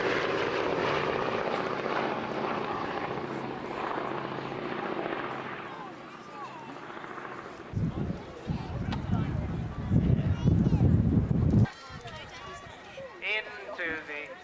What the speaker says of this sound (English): Sally B. Boeing B-17 Flying Fortress.